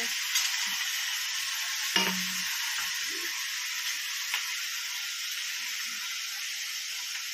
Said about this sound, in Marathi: आपण आता या छान अशा परतून घेणार आहोत।